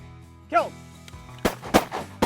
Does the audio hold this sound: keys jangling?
no